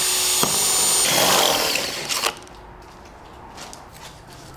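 A power drill with a metal bit pre-drills holes in a door frame, whirring loudly for about two seconds, then winding down into quiet.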